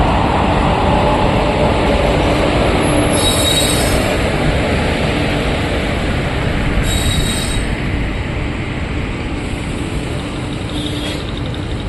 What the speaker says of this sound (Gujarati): તમે જોઈ શકો છો સવારે 8:15 આ ટ્રેન આવી જાય છે.